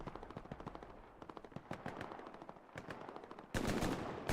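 Rapid machine-gun bursts and scattered rifle shots crackle in a Hell Let Loose battle, dense and distant-sounding, ending in a louder nearby burst, with no voices.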